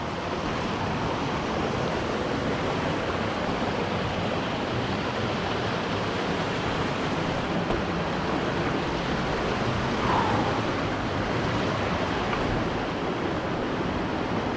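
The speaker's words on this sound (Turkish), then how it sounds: "Arkadaşlar burası zorlu bir dere." A rough creek rushes through Sansarak Canyon, a loud, steady, close roar of flowing water with no break for its whole length and no voices.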